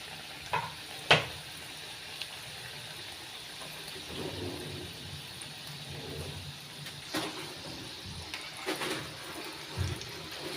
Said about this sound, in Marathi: आपण हे आता डीप फ्राय करून घेऊया.